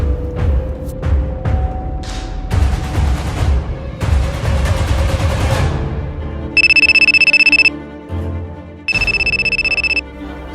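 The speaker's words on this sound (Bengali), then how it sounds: "আমার একটা ইমার্জেন্সি ফোন আসছে বাসার থেকে" An incoming call's ringtone cuts in with two loud, steady electronic rings after a stretch of busy thumps and clatter.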